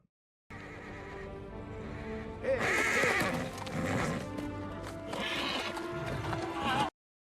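A horse whinnies loudly and shrilly with hooves clattering, from a scene in the Lord of the Rings: The Return of the King film, with a full, close sound that cuts off abruptly.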